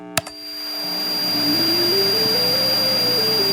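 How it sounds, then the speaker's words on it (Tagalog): A vacuum cleaner in the Night Cleaner video game clicks on and its motor whines up to a steady, droning hum that holds for several seconds, close and fairly loud. "First is vacuum."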